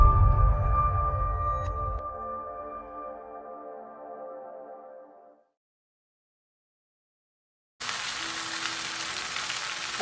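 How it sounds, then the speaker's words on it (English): Ground turkey fries in a pan with a steady hiss and sizzle that fades out, goes briefly silent, then a bright crackling sizzle returns, close and moderate, with nobody speaking. "now I got the ground turkey on there, frying, getting all nice and crisp"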